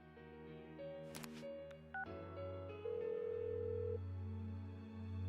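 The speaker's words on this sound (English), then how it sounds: "Give her another call." Phone dialing in the video game Persona 4 Golden: a sequence of soft electronic keypad tones, several short beeps, then a steady ringing tone that holds before fading, over quiet background music.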